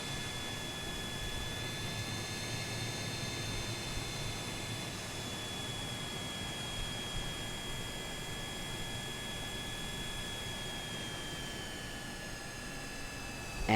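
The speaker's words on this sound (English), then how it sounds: "And the engine winds down." A jet engine in Microsoft Flight Simulator 2020 hums as a steady broadband roar with faint high whining tones that slowly sag in pitch as it winds down, moderately loud throughout with no talking.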